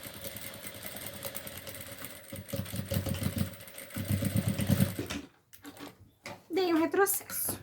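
Sewing machine stitching a fabric pencil case, bursts of rapid mechanical whirring that start and stop, followed by a pause and a brief voice.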